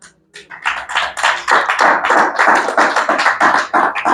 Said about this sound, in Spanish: ¿Cuándo le da un aplauso a Cristo?